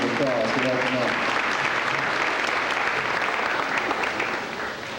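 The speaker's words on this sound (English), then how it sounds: "Let's give Jeremy a big round of applause for helping out." Audience applause at a Dollywood wildlife show after a volunteer helps with an owl presentation, a steady dense wash of clapping throughout, with a voice briefly heard at the start before the clapping fades slightly at the end.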